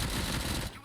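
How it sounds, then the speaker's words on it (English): Rapid automatic gunfire in the shooter RoboCop: Rogue City, a dense burst of loud close shots that cuts off near the end, leaving a faint tail. "Gunshots? What's going on?"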